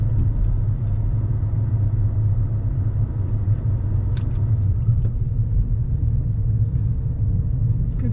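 A car engine hums steadily during a driving lesson as the learner accelerates, a low continuous rumble of road and motor heard from inside the cabin with no talk over it.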